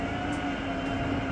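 A Weiler H457 forestry machine with a Waratah 623C head processing pine produces a loud, continuous engine and hydraulic drone with a steady hum, heard alone and close by.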